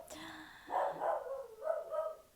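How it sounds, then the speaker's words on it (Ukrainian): A small dog barks indoors, several short yappy barks in an irregular burst, fairly close and clear, with a brief whine before them. "песик мій гавкає"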